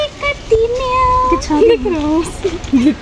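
A cat meows repeatedly, with several distinct, drawn-out, wavering cries close by and loud, separated by short pauses.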